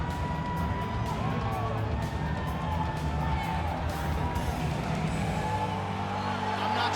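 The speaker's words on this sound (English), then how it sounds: "I'm not sure I have ever heard a louder crowd in any arena in the world than this here Bell Center in Montreal, Quebec, Canada" A large arena crowd at the Bell Centre in Montreal cheers at a UFC fight. The roar is dense and continuous, with whistles and scattered shouts, and an announcer talks over it.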